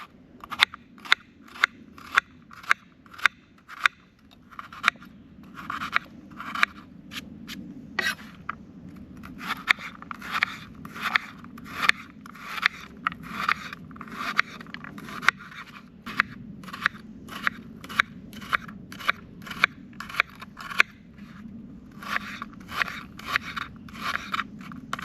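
A new knife chops and dices vegetables on a board while cooking beef stew at a woodland campsite, a long run of crisp, close, rhythmic cuts at a steady pace, with no talking over them.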